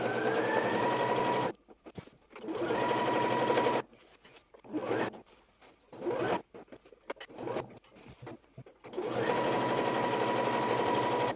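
A sewing machine stitches wax-print fabric for a half-circle skirt with an elastic waist, running in three close, loud bursts of rapid, even stitching separated by short pauses with faint handling sounds.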